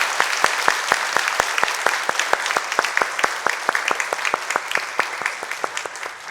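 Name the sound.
congregation applauding in church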